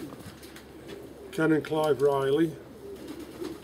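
A pigeon coos once nearby, a short rising-and-falling throaty call, with someone talking softly around it.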